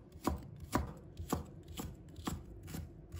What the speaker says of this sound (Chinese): 再准备一块生姜，把它切成片，再切成丝